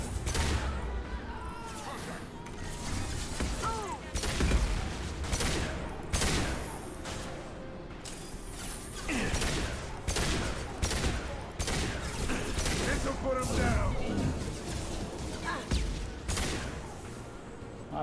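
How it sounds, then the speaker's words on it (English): Missile barrage in the video game Mass Effect 2, a rapid run of sharp explosive impacts and bursts of weapon fire, loud and dense throughout with whooshing streaks between hits. "That was a lot of missiles."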